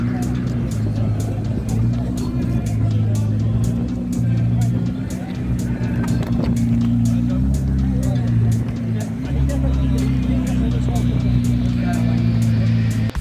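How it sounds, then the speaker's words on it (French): A Ferrari hybrid V6 supercar engine running at a car show in Angoulême, a steady low droning rumble with slight shifts in pitch, heard up close and continuous throughout. "Quel moteur, on s'en lasse pas."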